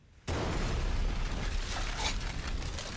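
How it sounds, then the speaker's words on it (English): Sudden loud explosion from the TV show The Good Place, erupting into a sustained broadband roar with rumbling and crackling that continues to the end, with no talk. "The explosion was caused by demons."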